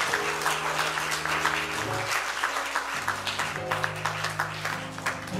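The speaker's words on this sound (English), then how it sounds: "Give him a round of applause." A church congregation claps after a sermon, with distinct individual claps pulsing over sustained organ or keyboard chords, moderately quiet and continuous throughout.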